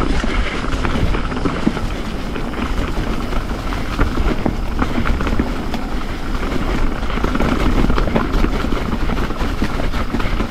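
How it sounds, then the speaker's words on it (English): Strong wind roars steadily across the microphone on a mountain bike trail at Heartbreak Ridge in Pisgah, a loud, constant buffeting rumble with no talk. "the wind is crazy today"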